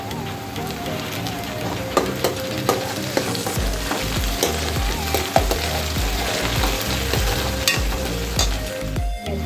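Egg bhurji sizzling loudly in a pan as coriander is added, a dense continuous fry hiss with scraping and stirring knocks, while music with low tones plays underneath.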